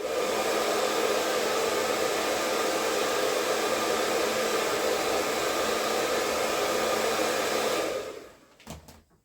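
A heat gun blows steadily and loudly, warming part of a NECA The Thing action figure, a constant broadband roar that cuts off near the end, followed by a few faint handling clicks.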